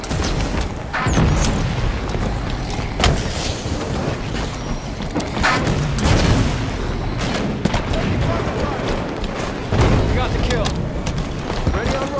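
Gunfire from a crawler unit during a Halo Wars 2 skirmish, heavy bursts and booming impacts crowding a dense, continuous battle din, with sharper volleys near the start, middle and end.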